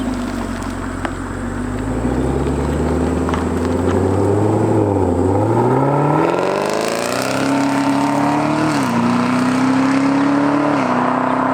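A Camaro ZL1 fitted with an AWE Tuning track catback exhaust drives past, its deep engine note rising and falling as it accelerates and shifts, loud and close, then settling into a steady higher drone.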